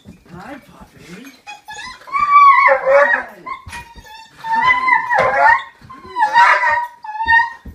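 A dog greets a soldier returning home, whining, yipping and giving short excited barks in bursts, close and loud, while people talk warmly around it.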